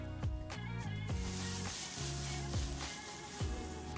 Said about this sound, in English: so I'm just adding a dash more oil